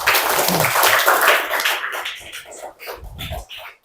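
Seventh-grade students clapping together in a school classroom, a burst of dense applause that thins out into scattered claps toward the end.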